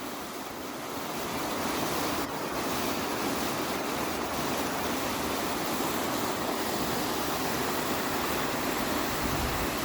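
Flowing water from a stream swollen after rain makes a steady, even rushing wash, continuous and close, with light wind noise and no talking.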